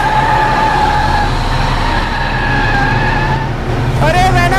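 A car speeds and skids in the video game GTA, a loud steady engine drone with a high tire screech breaking out near the end, under ongoing talk.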